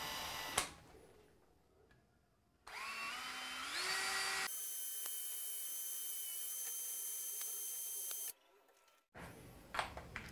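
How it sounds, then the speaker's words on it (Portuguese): An electric drill fitted with a paint mixer attachment stirs thick snow foam in short bursts. The motor whines and rises in pitch, then holds a sustained high buzz before stopping and restarting. "Olha o batedor de tinta do Walker, gente"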